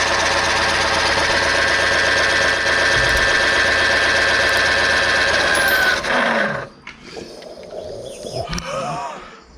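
A 1970 Mk1 Ford Escort engine runs loud and close at full revs with a steady rough roar, then cuts out abruptly after about six seconds, leaving quieter rumbling and background noise.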